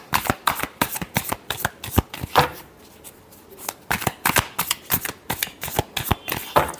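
Tarot cards being shuffled by hand in quick, crisp riffles, a rapid train of sharp flutters close up, with a brief lull in the middle before the shuffling picks up again.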